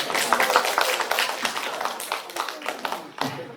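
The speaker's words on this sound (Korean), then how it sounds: "박수 한번 쳐주시죠" A group at a fire-safety CPR and defibrillator training class claps briefly, scattered and fading, with some voices mixed in.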